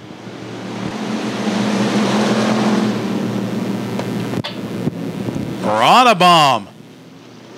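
Race cars at a Thunder Hill heat race roar out of turn four on a green-flag restart, a broad engine drone with wind buffeting, then a commentator's voice rises over it near the end.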